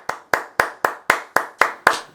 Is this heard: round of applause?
yes